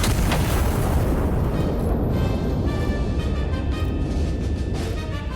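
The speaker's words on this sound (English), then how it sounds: "Prepare the cannon! Prepare your eardrums!" Heavy turret cannon firing in the video game Iron Nest, a massive deep boom that fills the whole stretch with rumbling low-end roar and a long reverberant tail, loud and close.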